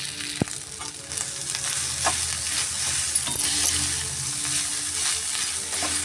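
Onions and crumbled idli sautéing in a pan for idli upma, a steady close frying sizzle with scattered spatula scrapes and a couple of sharp clinks, no voices.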